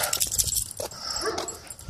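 Dog whimpering and giving high yips on a walk, a rapid run of excited, close, loud cries with rustling and movement noise around them.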